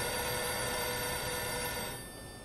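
A telephone rings in a point-and-click adventure game, Blackwell 3, as a continuous bright electronic trill that holds steady for two seconds before cutting off into quieter room tone.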